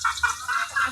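Several short clucks from native chickens, close by and fairly quiet, in quick bursts.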